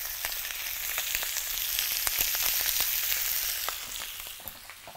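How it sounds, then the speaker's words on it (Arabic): Calamari frying in butter with a little oil in a hot pan: a steady close sizzle with scattered sharp pops and crackles throughout, no voices. "طاسه سخنه عشان احنا بس عايزين نحمر"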